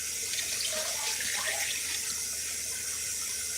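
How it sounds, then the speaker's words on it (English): Tap water pours steadily for chili, a soft continuous hissing splash at moderate distance that lasts throughout without a break, and no one speaks. "I'm going to add our water."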